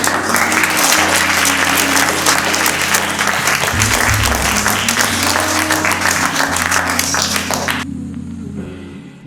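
Audience applause after a debate show, a loud, dense wash of clapping that holds steady and cuts off abruptly near the end, with a low background hum underneath.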